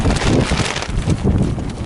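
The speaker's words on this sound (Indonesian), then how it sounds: "Anginnya sangat kencang" Strong wind buffets the microphone in heavy, uneven gusts, a loud low rumbling roar that never lets up.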